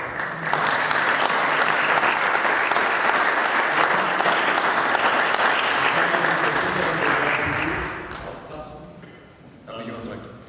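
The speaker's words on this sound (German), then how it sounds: "Das ist, glaube ich, ein Applaus wert." Audience applauding Professor Mappers at a museum donation event: dense, sustained clapping from a sizable crowd, steady and loud for about eight seconds before thinning out, with a brief renewed swell near the end.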